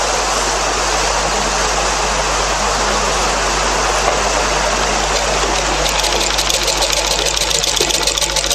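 A sewing machine stitches along the round neckline of a blouse, giving a steady, continuous whirring hum that runs unbroken from start to finish with no talking.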